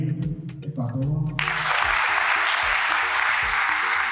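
A school audience at Vale College breaks into sustained, dense applause after a short spoken introduction, the clapping loud and steady to the end.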